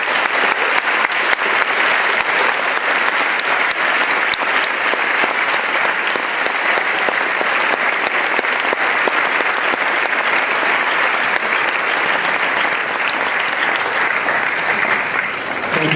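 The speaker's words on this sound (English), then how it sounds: "everybody give all of these veterans here a round of applause" An audience in a school assembly applauds veterans at a Veteran's Day event, a dense, loud, sustained round of clapping that holds steady for the whole stretch without any voices on top.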